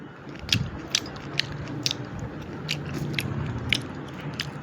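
Someone eating pomelo (jambura) in the evening, with repeated crisp bites and chewing that come in short bursts over a low continuous background hum, close to the mic.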